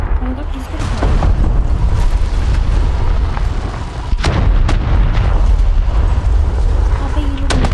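Gunfire and heavy cannon booms from War Thunder Mobile gameplay roll on continuously, dense and loud, with sharp blasts standing out near the middle and excited speech mixed over the battle noise.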